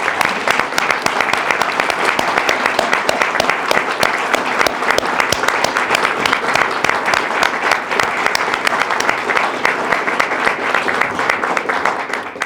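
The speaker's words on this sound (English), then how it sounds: "applause and thank them." A standing audience at an education resolution signing in Utah gives lawmakers long, steady applause, dense continuous clapping from many hands that holds at an even, loud level throughout with no talking over it.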